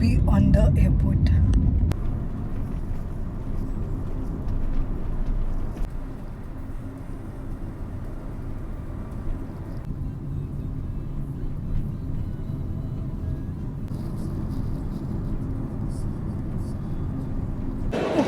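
Airport ambience carries a steady broadband rumble of vehicles with wind buffeting the microphone. It starts louder for the first two seconds, then settles into a continuous mid-level drone.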